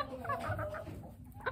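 Mille de Fleur and Barbu de Watermael bantam chickens, Belgian breeds, cluck softly in a short close burst, a few small chirpy calls over a low rustling background.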